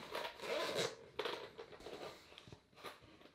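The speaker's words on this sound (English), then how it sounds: "zip it" A zipper on the carry case for a Flydigi Wasp 2 gaming controller is pulled closed in several quick, close rasping strokes, fairly quiet with no talking.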